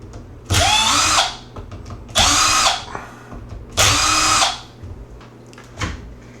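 Power drill driving out the front bumper screws on a Traxxas Slash 4x4 RC truck, three loud whirring bursts with short pauses between them, up close.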